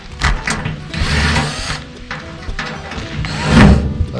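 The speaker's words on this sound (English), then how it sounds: "I'm going to let it settle down on there by taking these couple of screws out" Screws are backed out of a wood stove box so it drops down onto the stovepipe, a close series of whirring driver bursts, metallic rattles and a thunk, with no voices.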